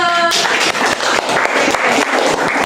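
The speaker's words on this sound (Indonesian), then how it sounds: "Oke, tepuk tangan dulu." Classroom applause at a junior high school lesson: a short tone gives way to loud, fairly uneven clapping from a group of students, with individual claps standing out through the steady patter.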